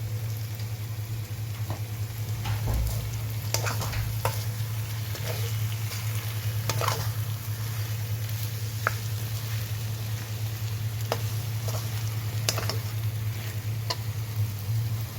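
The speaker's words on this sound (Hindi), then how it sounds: "मसाला अच्छी तरह से आलू के साथ फ्राई हो गई है।" Spiced masala frying with potatoes in a pan, a soft continuous sizzle and crackle with scattered small pops over a steady low hum, faint and close, no talking.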